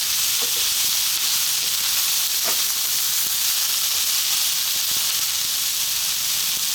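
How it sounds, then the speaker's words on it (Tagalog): Chicken with green peas and cauliflower stir-fries in a hot pan, giving a loud, even, hissing sizzle that carries through with a few faint stirring clicks underneath. "Mag-add tayo ng green peas, ng cauliflower. So again, haluin natin."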